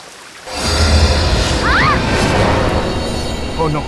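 Rushing water at a waterfall, with a loud, dense roar that swells up after a quiet start and holds steady, while faint high squeals and tones pass over it.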